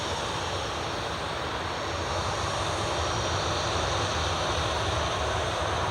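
EasyJet airliner lined up on runway 25 at Newcastle International Airport, its engines giving a steady broad roar that holds level and slowly builds, heard from a distance with no talk.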